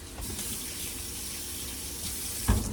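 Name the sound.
washing hands under running tap water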